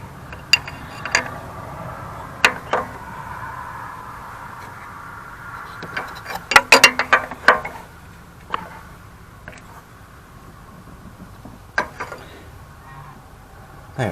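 Ratcheting wrench clicks and metal clinks while tightening the turbo oil feed line fitting on a Dodge Ram 6.7L, in scattered bursts with a denser cluster of clicks midway, close and moderately quiet.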